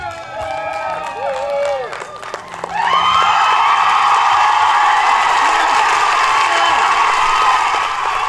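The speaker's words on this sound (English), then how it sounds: "Can we give one more round of applause for Empress?" A crowd at a Juneteenth community celebration in Franklin County breaks into loud, sustained cheering and applause after a brief stretch of mixed voices, the roar of whoops and clapping holding steady to the end.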